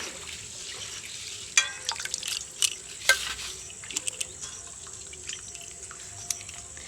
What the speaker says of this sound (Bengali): এবার আমি জল থেকে ছেঁকে পাতাগুলোকে তুলে নেব